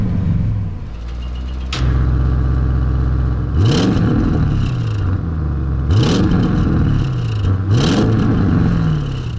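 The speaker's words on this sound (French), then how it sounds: "on met le mode sport. Tac, on entend tout de suite les valves qui s'ouvrent." An Audi RS engine in sport mode with exhaust valves open gives a deep, loud rumble, then rises in three repeated revving sweeps, each ending in a crackling burst, close by and without talk.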